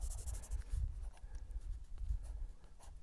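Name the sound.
pencil sketching on paper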